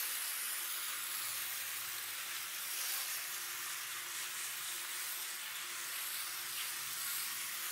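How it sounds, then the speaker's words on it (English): A soft, continuous spray hiss runs steadily without pause, fairly quiet and close. "Don't really know how much I have to spray. I'm just gonna saturate it quite a bit"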